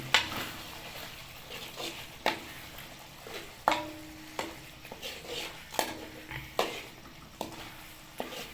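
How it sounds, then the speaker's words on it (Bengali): Chicken liver stirred into frying spice masala in a pan, with a soft sizzle and a spatula scraping and clinking against the metal at irregular intervals, close and moderately loud, with no talking. "এবার আমরা লিভার দিয়ে নিচ্ছি।"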